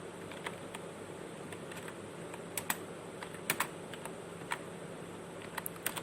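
Someone types a search into Google on a computer keyboard, producing soft, scattered keystroke clicks with a few sharper taps, quiet and close against a faint background hum.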